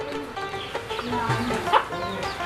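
A chicken clucks in short, uneven bursts nearby in a rural Sylheti drama scene about a chicken thief, with faint voices mixed in.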